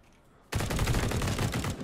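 Burst of rapid automatic gunfire from shooting enemies in the survival game Pantropy, a dense loud rattle lasting just over a second after a quiet start.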